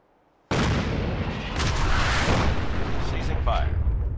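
An artillery strike in Fallout 4 hits with a sudden loud boom after a short quiet moment, followed by several seconds of sustained roaring, rumbling blast noise with scattered debris crackles.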